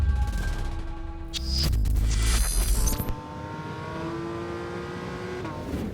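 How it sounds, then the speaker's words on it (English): A new Porsche 911 GT3 sports car swells into a loud engine roar that peaks and cuts off abruptly, then settles into a steadier, quieter mechanical drone. "This is the new Porsche 911 GT3."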